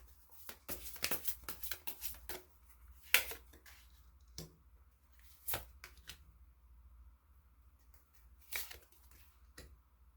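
A deck of tarot cards is shuffled and drawn in bursts of quick riffling and flicking, then sharp single snaps of cards being pulled, with quiet pauses between, recorded close in a calm room with no talking.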